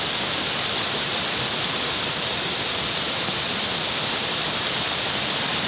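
Floodwater pouring down steadily in a continuous loud, broadband rush, like a waterfall, close by and unbroken throughout.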